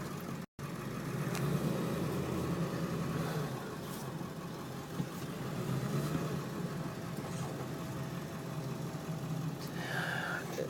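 A 2001 Ford F250 7.3L diesel 4x4 Lariat driving down a street, its engine a steady low clatter and hum with some road noise, fairly faint and even throughout.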